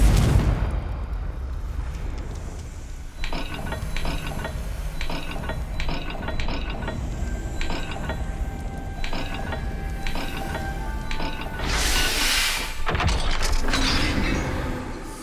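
A stone dial gate in the Hogwarts Legacy game grinds open, with a series of rhythmic mechanical ratcheting clunks building to a louder rumbling surge near the end.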